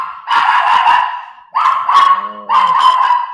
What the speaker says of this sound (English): As soon as you go towards the door, CC starts barking.